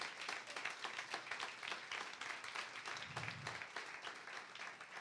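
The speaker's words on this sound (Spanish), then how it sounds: "yo pensé que esto merecía un aplauso, algo más fuerte" A church congregation claps together in a lively, uneven burst of applause that swells and dips, heard at moderate distance in a large room, with no voices on top.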